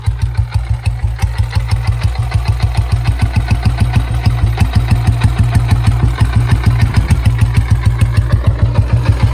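An old Royal Enfield Bullet 350 motorcycle engine idles close by, a loud, even chugging pulse that repeats rapidly and steadily without pause.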